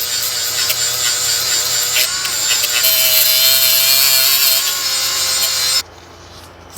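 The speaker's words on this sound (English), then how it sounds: "clean the face of the hub for the new rotor" Abrasive scrubbing on the face of a BMW 650i wheel hub during brake rotor replacement, a steady close rasping rub that runs continuously for several seconds and then stops abruptly.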